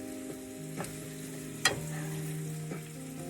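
Potatoes and onions frying in a pot for a depression-era peas and pasta dish, a soft, steady sizzle beneath low kitchen hum, punctuated by a few utensil clinks and one sharper knock.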